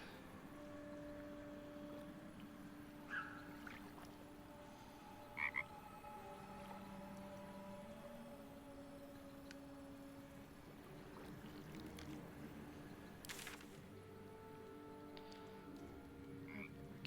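Frog croaks in a video game ring out over a steady ambient game soundscape, repeating a few times at moderate loudness with no talk over them.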